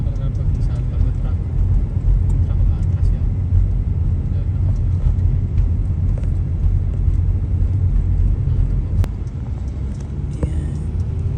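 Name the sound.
highway traffic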